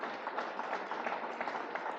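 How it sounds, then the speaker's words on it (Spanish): Steady applause from a church congregation, a dense patter of clapping continuing evenly throughout. "¿Cuántos le regalan un fuerte aplauso al Señor por la iglesia?"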